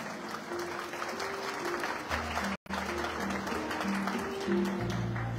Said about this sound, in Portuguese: Senhoras e senhores, uma salva de palmas para as nossas rainhas.